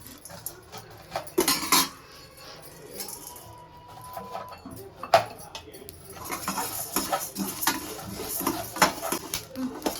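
Coriander seeds and spices dry-roasted in a pan for a stingray fish curry (thirukkai meen kulambu), heard as intermittent metal spoon scrapes and clinks against the pan, with a pigeon cooing softly in the background.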